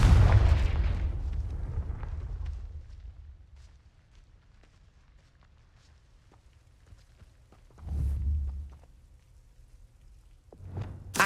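A Confringo fire spell in Hogwarts Legacy bursts in a heavy booming explosion that rumbles and decays over a few seconds, followed later by a second, shorter blast and a sharp hit at the end.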